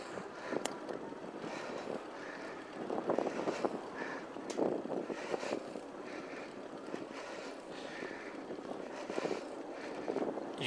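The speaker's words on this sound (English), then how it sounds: "There's a headwind here too." Wind rushing over the microphone during an Envo D50 e-bike test ride into a headwind, a steady breathy roar with gusty swells throughout and no talk.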